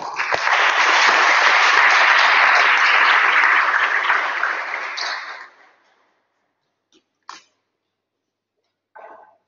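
An audience at an academic lecture gives warm, dense applause that swells, holds for about five seconds and fades out, followed by near silence with a couple of faint isolated knocks and a brief murmur.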